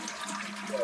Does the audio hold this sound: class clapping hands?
no